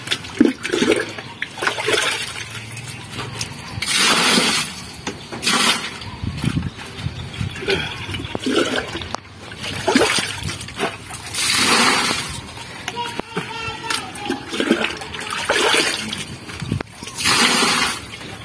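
A toilet flushes with loud rushing, splashing water that drains down in repeated surges over about eighteen seconds, close by, with voices talking at times.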